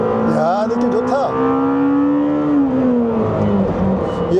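A Lamborghini Temerario in Corsa mode revs hard toward a 10,000 rpm redline in third gear, the engine note climbing in a loud, close wail under excited talk from the cabin.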